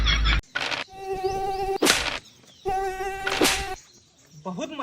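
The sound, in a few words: mosquitoes buzzing in overgrown grass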